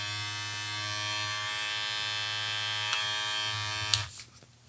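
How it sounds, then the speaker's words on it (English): A BaBylissPro LithiumFX hair clipper runs with a steady, close electric buzz and strong harmonic whine, then gets switched off with a click and its motor winds down. "Here is the clipper. We're gonna go ahead and turn this on,"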